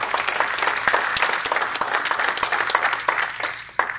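Audience at an Urdu literary academy tribute event applauds, a dense, steady wash of many hands clapping close and loud, continuing without pause.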